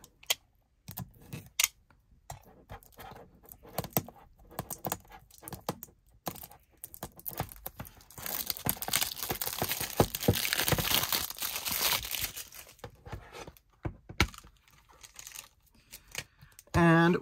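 A Nintendo Switch game case for Miss Kobayashi's Dragon Maid: Sakuretsu!! Chorogon Breath is handled and opened up close, with scattered plastic clicks and taps, then a longer stretch of crinkly rustling and scraping before a final thump.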